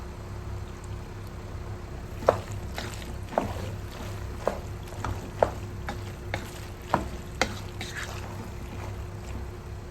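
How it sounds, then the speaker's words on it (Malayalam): Spoon stirring through a pan of creamy pasta after fresh cream is poured in, with a steady low rumble under a string of soft, sharp scrapes and clicks spaced a second or so apart. "ഇതിലേക്ക് നമ്മൾ ഫ്രഷ് ക്രീം ഒഴിച്ചു കൊടുക്കുകയാണ്"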